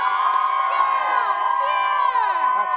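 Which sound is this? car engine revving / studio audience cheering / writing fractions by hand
studio audience cheering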